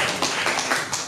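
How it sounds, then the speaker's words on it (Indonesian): A class of students clapping their hands in applause, a steady dense patter of many claps at close range with no voices. "Oke, tepuk tangan dulu."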